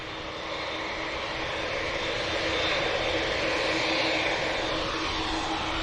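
A steady, broad roar of aircraft engines holds for about six seconds at Manchester Airport, at a moderate distance and swelling slightly, with no voices over it.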